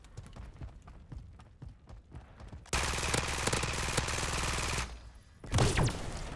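Rapid automatic gunfire in a Call of Duty match rattles loud and close in a sustained burst, breaks off briefly, then resumes, after a stretch of quieter scattered shots and footsteps.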